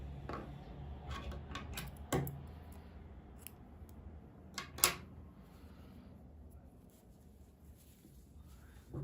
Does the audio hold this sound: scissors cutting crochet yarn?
yes